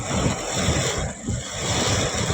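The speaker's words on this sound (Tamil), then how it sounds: "பயங்கரமாக காற்று" Strong wind blowing through heavy rain in a town street near an old bus stand, a steady rushing roar with gusty swells that briefly dips near the middle.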